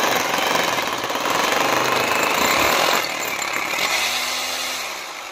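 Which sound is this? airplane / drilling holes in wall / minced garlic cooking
drilling holes in wall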